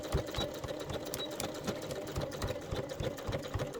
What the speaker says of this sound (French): Et tu vas coudre tout le long.